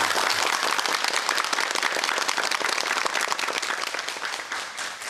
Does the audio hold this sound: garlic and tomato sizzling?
no